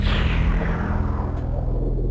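A low-register special-effect patch on a Kurzweil K2500X synthesizer gives a dark, rumbling whoosh that sweeps downward and fades over about two seconds.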